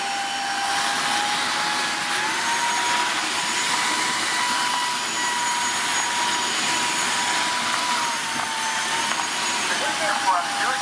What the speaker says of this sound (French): Je vais activer le mode aspiration de l'eau, c'est-à-dire qu'il ne va plus du tout mettre d'eau, il va uniquement aspirer l'eau.